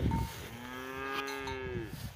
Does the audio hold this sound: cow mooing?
yes